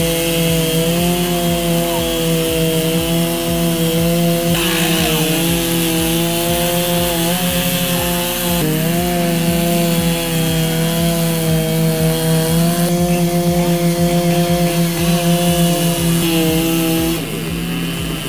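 A 74 horsepower chainsaw plunge-cuts through a log in a backyard, its loud, steady high-revving whine holding under load the whole time with small pitch dips as the bar bites, and no talking.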